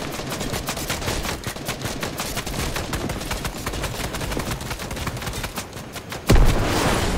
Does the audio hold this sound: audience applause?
no